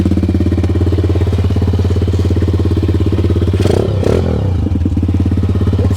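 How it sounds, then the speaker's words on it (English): A CF140 pit bike with a Lifan 140cc engine swap runs on choke, a loud, close, steady single-cylinder putter with a rapid even beat and a brief clattery blip partway through. "Light running on the choke."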